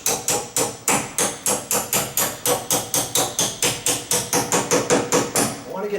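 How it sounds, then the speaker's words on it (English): A hammer hits a door hinge pin again and again, about twenty ringing metallic strikes in a fast, steady rhythm, loud and close with a slight sustained ring after each blow. "so I may have to use my hammer here"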